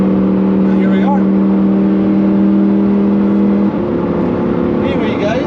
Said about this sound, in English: this is the inside of a Lamborghini Huracan Evo. This is me driving it.